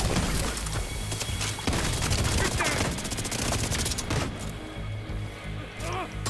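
Rapid gunfire from The Division 2 video game, dense bursts of overlapping shots crackling almost continuously for several seconds before thinning out near the end.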